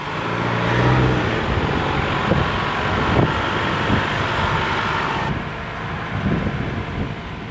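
A 2024 Toyota Tacoma pickup driving on beach sand, a steady broadband rumble of engine and tyres mixed with wind buffeting the microphone, fairly loud and continuous with no voices.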